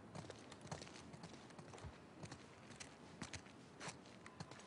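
Horse hooves clip-clop at an uneven walking pace in The Last of Us Part II, soft and fairly distant, with no speech over them.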